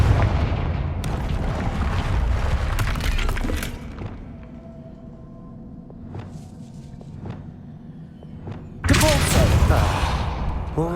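A Confringo blasting spell goes off in Hogwarts Legacy, ending in a loud, sudden burst of explosive noise that follows a stretch of softer ambience and a few sharp impacts.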